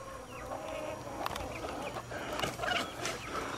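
Ring-necked pheasants fighting outdoors, with a sequence of harsh, clucking, fowl-like calls repeated at close range over steady background noise and no talking.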